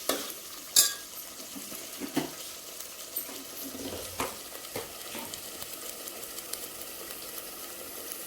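Spice masala frying in oil in a pan with black chili powder, a soft steady sizzle punctuated by scattered spatula scrapes and taps, one louder clank near the start, no voices.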